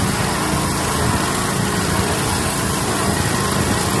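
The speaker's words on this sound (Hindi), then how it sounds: "ये हमारी कटर मशीन है" An abrasive disc rail cutting machine slices through a steel railway rail, giving a steady, loud, unbroken grinding roar that fills the whole clip without any speech.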